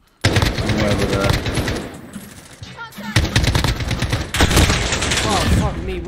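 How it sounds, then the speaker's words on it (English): Dense bursts of automatic gunfire and rapid shots in the Warzone video game, loud and sustained across the clip with brief lulls, rattling from several directions while a player talks over the shooting. "we are getting shot from everywhere right now, man"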